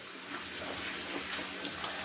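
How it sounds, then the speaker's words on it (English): Water swishes around a bowl and splashes into a colander while rinsing vegetables for homemade vegetarian kimchi, a close, continuous watery rush with no talking. "filling the bowl with water and just swishing it round, and then we will pour it into the colander"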